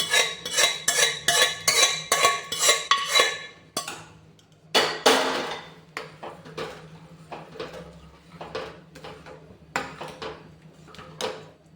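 A spoon scrapes and knocks against a kadhai as a homemade pav bhaji mixture is stirred, with rapid rhythmic clanks at first, then slower, spaced metallic taps in a quiet kitchen.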